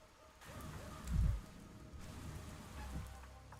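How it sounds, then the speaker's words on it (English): Steady rain falls in the Pathologic 3 game world, with a soft constant patter and a few low rumbles swelling and fading. "Listen to the rain. It's very calming."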